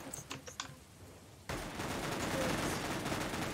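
Rapid gunfire from the Roblox game Silent Assassin bursts in at mid-clip as a dense, continuous rattle. It follows a quieter stretch of light tapping clicks.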